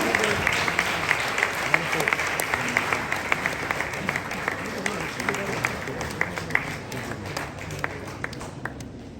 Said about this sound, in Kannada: ನಿಮ್ಮೆಲ್ಲರ ಚಪ್ಪಾಳೆಯೊಂದಿಗೆ ಅಗ್ನಿ ಗೊಬ್ಬರಕ್ಕೆ ಗೌರವವನ್ನು ಸಲ್ಲಿಸ್ತಾ ಇದ್ದೀವಿ